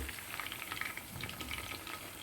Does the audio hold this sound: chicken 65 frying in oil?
yes